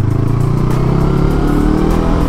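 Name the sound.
FKM Expres 500 SC motorcycle engine revving on ride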